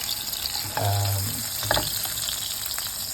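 Tofu fries in hot oil in a pan with a continuous close sizzle. Brief stirring and scraping clatters sound as pieces are lifted out.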